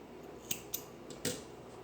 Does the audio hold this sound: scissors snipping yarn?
yes